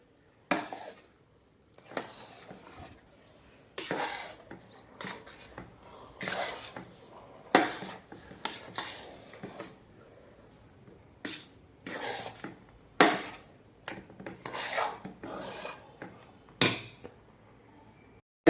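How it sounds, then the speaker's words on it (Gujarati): A spoon scrapes and knocks against a pan while a thick salam pak mixture with ghee is stirred, giving irregular close clatters with quiet pauses between them. "નીચે જરા પણ ચોંટવું નહીં જોઈએ, એ રીતે બરાબર હલાવવાનું."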